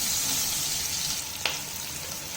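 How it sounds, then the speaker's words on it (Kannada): Onions fry in a pan on the way to golden brown, a dense steady sizzle close by, with one quick clink of a spoon midway and no voices. "ಈರುಳ್ಳಿನ ಆ್ಯಡ್ ಮಾಡ್ಕೊಳ್ಳೋಣ. ಇದು ಸ್ವಲ್ಪ ಗೋಲ್ಡನ್ ಬ್ರೌನ್ ಆಗೋವರೆಗೂ ಹುರ್ಕೋಬೇಕು"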